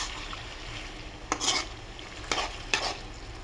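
Chicken frying in a pan, a soft steady sizzle under three distinct scraping stirs of a utensil against the pan, close and fairly quiet.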